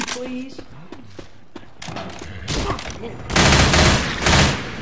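Gunfire in Left 4 Dead 2 on Xbox 360, scattered shots at first building into dense, loud bursts of rapid fire, with footsteps and thuds in between.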